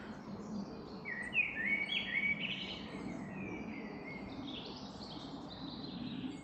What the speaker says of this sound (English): Thanks to the birds as well for the soundtrack.